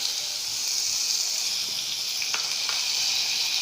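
Red tomato dropped into a hot pan with chili and capsicum while cooking paneer bhurji, giving a steady close sizzle and hiss with a few small pops and clinks of stirring.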